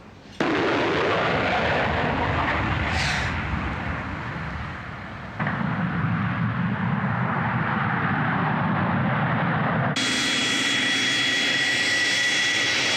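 A fixed-wing airplane flies overhead and comes in to land, a loud, continuous jet engine roar that dips briefly, surges back and holds steady with a high whine toward the end.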